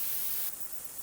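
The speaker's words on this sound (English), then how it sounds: "This is with noise shaping curve A," Constant soft hiss of dither noise with noise shaping curve A, a bright, high-pitched sizzle that suddenly falls away halfway through, leaving a duller, quieter noise.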